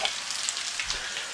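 Potatoes with meat fry in a crowded pan, a steady close sizzle with light crackles and a soft scrape of stirring.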